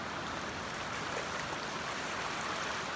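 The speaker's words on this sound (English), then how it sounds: "Creek is emptying into the bay." At Salt Creek, creek water empties into the bay with a steady, close rushing wash that holds constant without any break, and no voices are heard.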